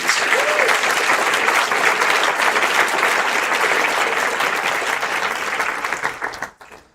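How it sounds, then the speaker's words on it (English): Sustained, loud applause from a big crowd at an awards convocation, dense and even, fading out quickly near the end. "One more time, give a big round of applause for all of our most outstandings."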